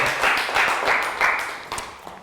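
A classroom of young students gives a short burst of clapping, a few seconds of near, moderately loud applause that tapers off at the end.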